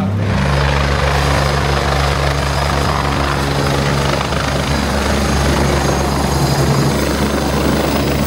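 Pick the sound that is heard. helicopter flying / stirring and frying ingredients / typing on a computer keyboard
helicopter flying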